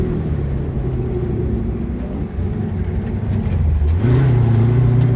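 A race car with a Mendeola/Weddle dogbox transmission cruises at low speed, its engine droning steadily before the pitch drops and then rises again as it changes gear, loud and close.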